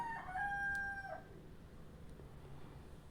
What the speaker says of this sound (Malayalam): പിന്നെ ഞങ്ങളെ ബാക്ക്ഗ്രൗണ്ടിൽ നല്ല കോഴിയുടെ ശബ്ദമൊക്കെ ഉണ്ട്